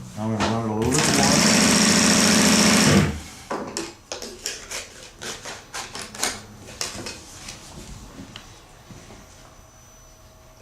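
An industrial sewing machine runs loud and steady for about two seconds after a brief start, then stops, followed by scattered clicks and handling noises with a voice speaking.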